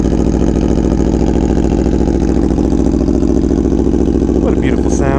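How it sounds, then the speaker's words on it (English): A 2017 Aprilia Tuono V4 1100 Factory on a cold start idles steadily through an SC Project CRT exhaust with a deep, throbbing, uneven rumble, loud and close, with a brief blip near the end. "This is a cold start on a 2017 Aprilia Tuono V4 1100 factory with an SC Project CRT exhaust"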